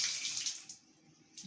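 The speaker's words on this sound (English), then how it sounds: "As the water is flowing, as the water goes down," Water rushes through a mini hydro generator turbine under heavy pressure, a faint, steady hiss of flow that fades slightly before surging again at the end.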